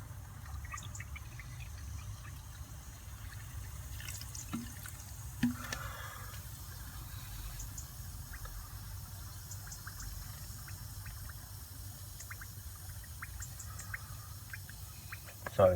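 Descaling liquid poured into the wrong end of a blocked plate heat exchanger from a Potterton Performa boiler, giving faint trickling and dripping over a low steady hum with a few small clicks.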